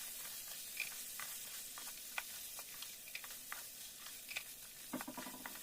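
Potatoes and peas frying for aloo matar curry, giving a soft, steady sizzle dotted with quick ticking pops and light stirring clicks, close and fairly quiet.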